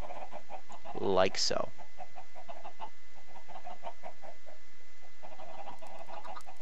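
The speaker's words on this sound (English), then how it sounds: "just get some chickens in there" Chickens on a video game farm clucking in a steady stream of short repeated calls, with a brief louder squawk early on and a few quiet spoken words.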